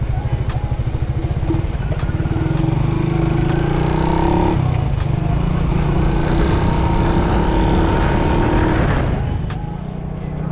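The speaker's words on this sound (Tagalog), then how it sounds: "Ang lakas ng tunog ng ating motor ah." A motorcycle engine runs loud and close throughout, a steady droning roar with shifting pitch as it revs, carrying on without a break.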